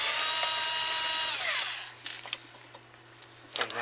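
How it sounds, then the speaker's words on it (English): A power drill runs steadily while taking apart a CD-ROM drive, a continuous high whine that winds down partway through, followed by a few sharp clicks and light mechanical rattles and a brief final rev. "we use a power drill. Faster, and it gets it done a lot faster."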